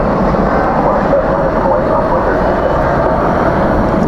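A jet airliner begins its takeoff roll on a runway at Dallas Fort Worth airport at night, a loud steady broadband engine roar that fills the whole stretch without a break.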